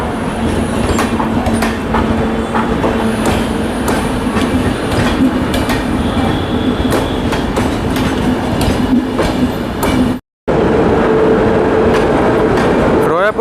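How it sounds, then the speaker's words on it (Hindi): Netaji Subhash Chandra Bose Itwari–Bilaspur Intercity Express hauled by a WFP7 locomotive departing Raipur Junction, with a loud steady rumble of rolling coaches, clattering wheels and squeals, close by and continuous, briefly cutting out near the end. "बिलासपुर इंटरसिटी एक्सप्रेस के साथ WFP7 के साथ डिपार्ट कर रही है रायपुर जंक्शन से"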